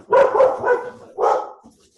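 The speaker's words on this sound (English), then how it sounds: "Did somebody hear my dogs?" Dogs bark several times in quick succession, then once more after a short pause, fairly close and loud.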